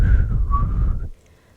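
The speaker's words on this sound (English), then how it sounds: "did I just whistle when I said queen?" A person whistles a single sustained, slightly wavering tone close by for about a second before it cuts off to near silence.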